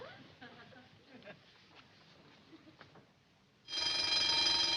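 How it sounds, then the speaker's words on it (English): A store burglar alarm bursts into loud continuous electric ringing near the end, following a quieter stretch of faint room noise and clicks. "That's the burglar alarm."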